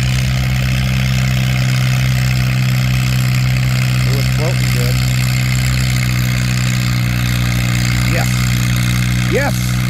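An antique tractor engine idles at a tractor pull, a loud, steady low drone that runs throughout, with a few faint voices rising briefly in the background.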